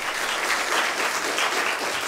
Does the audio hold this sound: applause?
yes